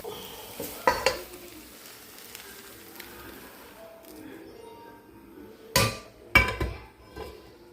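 Cooked egg in a pan for an egg sandwich is chopped into medium pieces with a spatula, making a few sharp tapping knocks against the pan between quiet stretches, with faint kitchen noise in the background.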